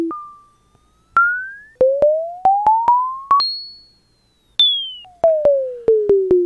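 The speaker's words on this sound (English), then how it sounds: "you can still sort of hear the gradual fall or gradual rise of the sine wave, but it suddenly gets modulated by that square wave" Nord Micro Modular synthesizer sine wave gliding slowly up and down, abruptly jumping in pitch as a square wave LFO modulates it, with sharp clicks at each step; clean, electronic and alone.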